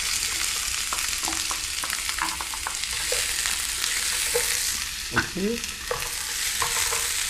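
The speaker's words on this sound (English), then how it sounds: "You just want to get it a nice sauteed look, not too cooked." Onions and garlic sauté in a pan for a Pacific Island pea stew, giving a steady close sizzle with scattered stirring scrapes and utensil taps, while a voice speaks one brief word.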